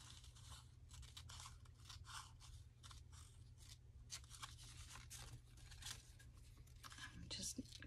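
Paper edges are torn by hand to a ragged finish for a window envelope belly band, close and quiet, with rapid papery rips and crinkles over a low steady hum.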